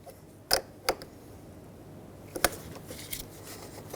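Wrench snugging a bolt on a fog light relay wire in a 2011-2016 Ford F-350, heard as a few sharp ratchet-like clicks and creaks, two close together early, then another small cluster later, near and fairly quiet.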